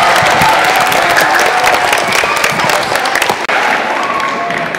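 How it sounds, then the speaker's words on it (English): A school audience gives loud, sustained applause with some cheering for third-grade performers at the close of a concert, a thick, continuous roar of clapping from a full room. "Round of applause for our third graders, please."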